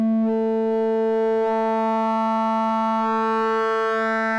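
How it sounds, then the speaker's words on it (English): Sputnik Modular dual oscillator producing a steady sine tone whose timbre turns richer and buzzier as wavefolding adds harmonics, sustained alone without talk. "we start with a really beautiful pure sine wave, and then by introducing some of this timbre control"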